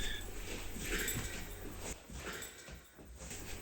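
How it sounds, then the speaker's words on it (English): A puppy whimpers softly in a tired house bathroom due for renovation, faint thin whines over a low background hum, rising briefly then fading. "My puppy."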